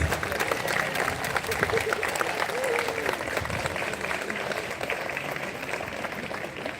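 Sustained applause from a large convocation audience, steady and loud throughout, with some crowd murmur mixed in.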